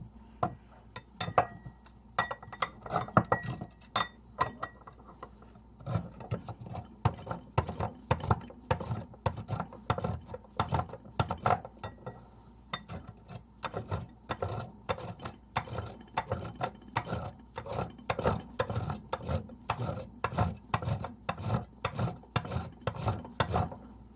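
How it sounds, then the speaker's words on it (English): A bar of homemade soap is grated by hand into a bowl, producing steady rhythmic rasping scrapes that repeat in quick strokes, fairly close and clear with no talking. "I'm going to multitask and grate this soap up"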